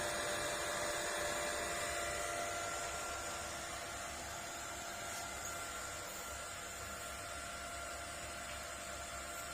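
A cooling fan on a Tafdetech 8000i runs as a steady, even whoosh with a faint tonal hum, constant for the whole stretch and heard alone without talk.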